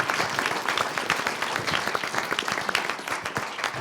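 An audience applauds steadily, a dense, even wash of many hands clapping at moderate loudness for several seconds, with no pauses or talking.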